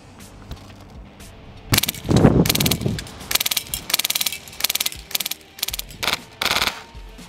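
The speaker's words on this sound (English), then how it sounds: "As fast as you can pull the trigger, this gun fires instantaneously." Polarstar airsoft rifle fires BBs at targets in rapid bursts of sharp, loud pops, an irregular run of quick strings and single shots with a brief rumble early on.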